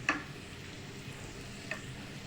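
Onions frying in Blue Band margarine, a soft steady sizzle at low volume with a couple of faint clinks, no talking.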